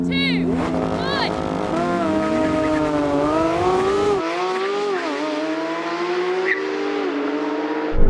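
Turbocharged drag race cars, 630 and 520 horsepower, launch and accelerate. Loud, rising engine whines climb and shift through gears, with a sudden drop in low rumble midway and a burst at the end.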